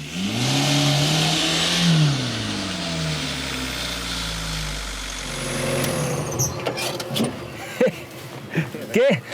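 A Suzuki Samurai off-roader fitted with a Volkswagen 1.9 TDI diesel engine from an Ibiza revs up and down in rising and falling sweeps, loud and close, followed by clunks and knocks near the end with voices nearby.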